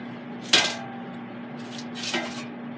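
Air-fried chicken pieces with KFC-style seasoning are flipped in an air fryer basket, giving two sharp clattering knocks of metal and food a moment apart over a steady low hum, with no talking.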